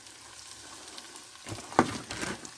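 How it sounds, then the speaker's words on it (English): Scrambled eggs stirred into an egg roll in a bowl mixture cooking in a pan, a faint low sizzle that picks up into louder crackling and scraping strokes toward the end. "And just stir that in."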